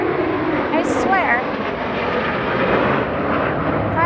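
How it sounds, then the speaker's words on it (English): Fighter jets pass overhead on Memorial Day, a loud, steady, broadband roar that fills the whole stretch while someone talks over it outdoors. "Fighter jets."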